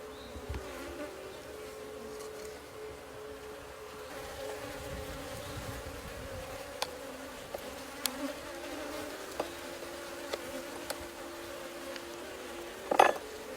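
Honey bees buzzing around a beehive, a steady low drone with occasional light clinks and taps. A brief louder knock comes near the end, and no one speaks.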